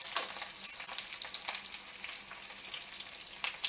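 Tempering of green chillies and curry leaves frying for coconut rice gives a steady, fairly faint sizzle with light crackles and a few sharper pops, heard alone.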